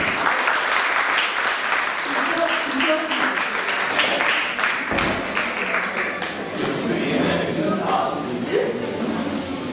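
Church congregation at a magazine launch ribbon cutting applauding loudly, sustained dense clapping with thumps and taps, voices calling out over it in the second half.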